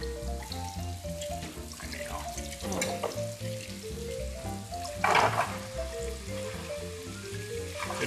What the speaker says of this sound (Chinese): 有點像半煎炸